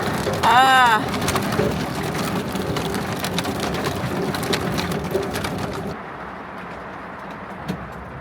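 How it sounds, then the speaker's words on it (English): Hail pelts down during a tornado-warning storm as a dense, steady patter that drops off sharply near the end. A bird chirps briefly at the start. "Oh my God, there's hail."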